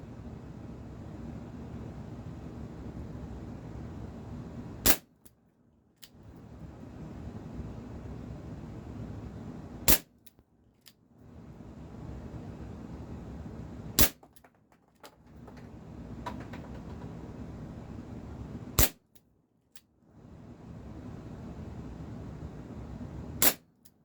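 Dan Wesson 715 CO2 pellet pistol fired single action, five sharp cracks spaced about five seconds apart, each standing alone against a hissy outdoor background.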